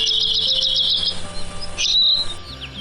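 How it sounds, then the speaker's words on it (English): Morning birds chirp and tweet close by in bright, repeated calls, with a few sharper notes breaking through a quieter stretch near the end. "So next time you hear the birds singing their tune"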